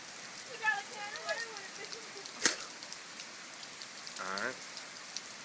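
Steady rain falls outdoors as a continuous soft hiss, with people talking over it and a sharp click partway through.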